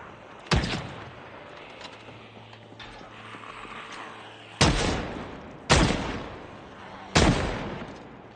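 Four loud, sharp gunshots in the zombie survival game Project Zomboid, one early and three spaced close together near the end, each with a brief echoing tail.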